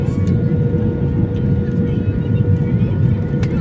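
Passenger airliner touching down and rolling along the runway, heard from inside the cabin as a loud, continuous low engine and wheel rumble, with people talking over it.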